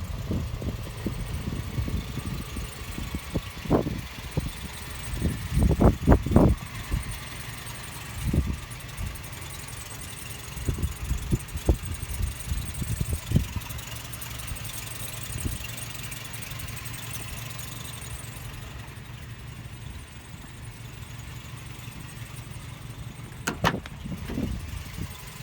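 A 2003 Toyota Tacoma pre-runner's engine idles with a low, steady hum throughout, broken by scattered thumps and knocks close by.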